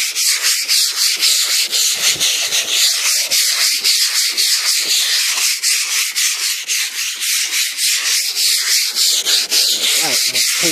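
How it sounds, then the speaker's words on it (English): Sanding a Cadillac quarter panel by hand, a close, continuous scratchy rubbing in rapid back-and-forth strokes with no pauses. "I'm gonna sand it on there."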